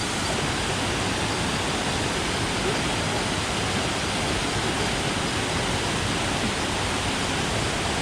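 Dense, steady rush of river water in the jungle near Minca, Santa Marta, Colombia, a loud unbroken broadband roar that fills the whole stretch without pause.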